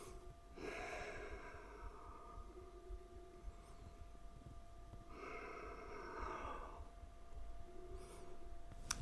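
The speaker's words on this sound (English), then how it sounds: "Okay, so just keep breathing." Steady breathing during a tripod headstand yoga exercise, with two clear breath cycles, inhale-exhale swells around one and five seconds, heard close and fairly soft with no talking.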